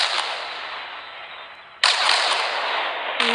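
A planet blown apart in the Solar Smash video game: sharp, loud blasting bursts, one at the start, a second heavier one partway through and a third near the end, each followed by a sustained roaring rumble.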